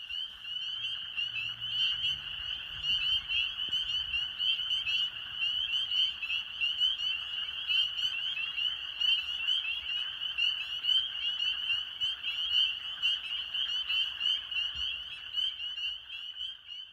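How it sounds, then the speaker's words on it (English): Spring peepers and wood frogs call at night during a Maine amphibian migration, a dense, continuous chorus of high peeping with softer quacking croaks, steady and loud throughout with no voices. "So hopefully you all heard some spring peepers and perhaps even the quacking of wood frogs in the background."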